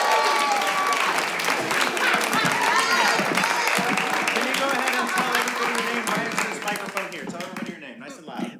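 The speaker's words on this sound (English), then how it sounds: "Applause for this woman right here." A comedy club audience applauds a woman called up on stage, dense sustained clapping and cheering that fades toward the end, with voices talking over it.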